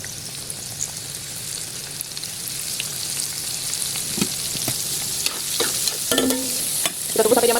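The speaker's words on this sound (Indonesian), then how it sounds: "kita goreng sampai dia kecoklatan ya guys" Battered shrimp frying in hot oil gives a steady, close crackling sizzle throughout, with a few sharper pops and bubbling bursts growing busier toward the end; no voices.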